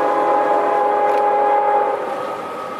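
A CSX freight train rumbles steadily close by, with a sustained horn layered over the rolling noise, easing slightly toward the end.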